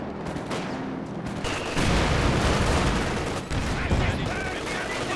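Machine gun fire in a Company of Heroes 2 two-versus-two battle: rapid bursts of gunfire and scattered shots over a noisy battlefield bed, growing louder and denser midway, with a brief dip before resuming.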